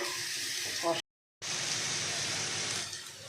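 Spices and potatoes sizzle and hiss in hot oil while frying for a fish curry. The steady steamy hiss is close and loud, breaks off in a brief silence, then resumes.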